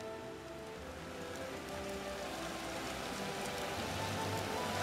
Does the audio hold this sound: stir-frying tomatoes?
no